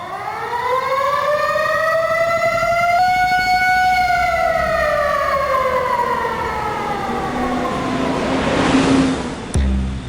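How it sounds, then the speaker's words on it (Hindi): A wailing siren rises and falls steadily in the distance over several seconds, loud and continuous, with traffic rumble underneath. "दूर से सायरन की आवाज आती है"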